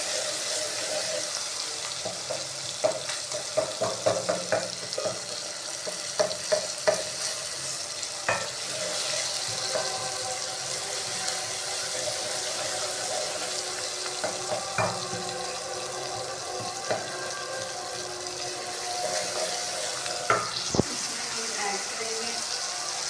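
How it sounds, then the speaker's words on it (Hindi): Tomatoes and green chillies sizzle and crackle steadily in a hot pan for aloo matar, with occasional stirring clinks and scrapes throughout, fairly quiet and close. "इसको अब हम अच्छे से सौते कर लेंगे"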